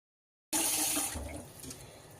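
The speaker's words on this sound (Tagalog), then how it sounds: "So ato na siyang butangan og tubig na" Water pours from a container onto two cups of rice in a pot for cooking, a sudden steady splashing rush that starts abruptly and settles into a softer continuous flow, with no talk.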